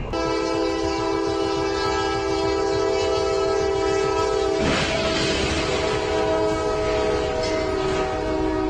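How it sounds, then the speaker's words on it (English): A train blasts a long, steady horn at close range as it slams into a semi-truck, a loud crashing burst breaking out midway through the blare and continuing under it. "Truck versus train. The train won."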